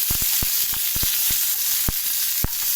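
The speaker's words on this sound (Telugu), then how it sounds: "1 స్పూన్ ఆయిల్ వేసి ఆనియన్, టమాటోస్ ఫ్రై చేసుకుందామండి" Onions frying in a spoonful of oil for a paneer curry, a steady bright sizzle with scattered sharp pops and crackles close by, no voices.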